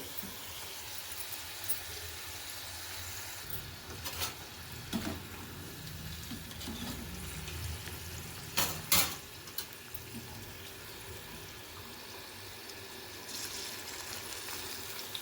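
Red chillies fry in a pan for a pickle made with amla, giving a steady low sizzle throughout, broken by a few brief louder clatters near the middle.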